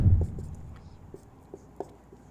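Handwriting during a maths lesson: a soft thump, then a few faint, scattered pen strokes in a quiet room.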